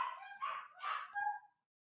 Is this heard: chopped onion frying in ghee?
no